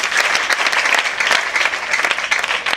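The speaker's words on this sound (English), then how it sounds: "And you clap for yourself." Audience members at a governor's birthday gathering clap together in a brisk, close, continuous burst of applause with a few louder individual claps standing out.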